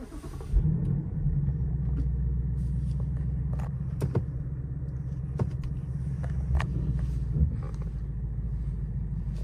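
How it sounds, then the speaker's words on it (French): A Ford Mustang GT engine heard from inside the cabin, a deep steady rumble that swells with a brief rev near the start and holds as a low idle throughout, with small clicks over it. "vous allez pouvoir voir le démarrage de l'intérieur"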